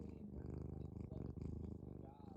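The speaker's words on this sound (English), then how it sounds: "She's purring so loud." A cat purrs loudly and steadily up close, a continuous rumbling purr with rhythmic breathing pulses throughout.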